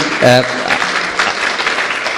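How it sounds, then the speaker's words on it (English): Loud, dense applause from a crowd fills the whole moment, with a short voice heard over it at the beginning. "let's give ourselves a big round of applause"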